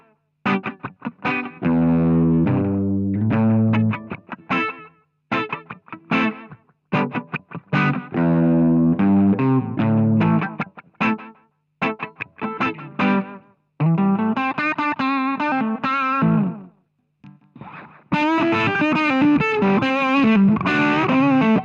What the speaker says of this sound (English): If you listen closely, you just hear the bend on the repeat of the note.